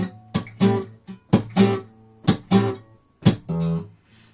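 Acoustic guitar playing measures 8 and 9 of a song, with a changed rhythm and a new chord, in repeating pairs of sharp percussive slaps followed by strummed chords, played close and alone.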